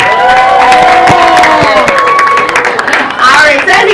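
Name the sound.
crowd applauding and cheering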